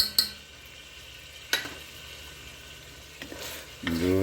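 Steak browns in a pot with black pepper being stirred in: a soft sizzle broken by a few sharp utensil clinks against the pot, and a louder clatter at the end.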